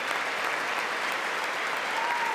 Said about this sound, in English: They're clapping. They're barely clapping.